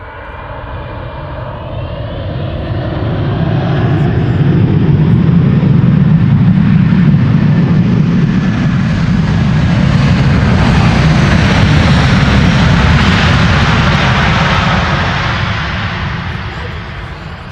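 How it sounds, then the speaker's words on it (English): A Delta Airlines Airbus A330-300 arriving at Amsterdam Schiphol Airport in wintry weather, its broad jet roar swelling from a distant rumble to a loud, sustained pass before easing slightly. "This is Delta Airlines Flight 74, arriving from Atlanta, Georgia. An A330-300."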